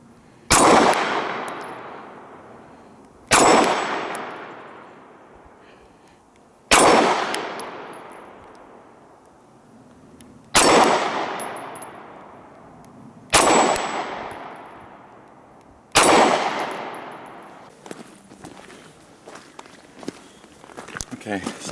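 Six sharp 9mm pistol shots from a Springfield XDs and a Kahr CM9 ring off steel targets at an outdoor range, spaced about three seconds apart, each loud report trailing into a long metallic ring, with faint chatter near the end.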